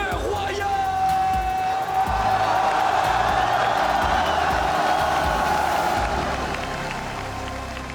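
Arena crowd at the 2018 League of Legends MSI grand finals clapping and cheering for team Royal, a dense steady roar of applause that goes on for the whole stretch under an announcer's voice.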